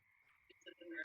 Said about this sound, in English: you see a giant frog that you heard croaking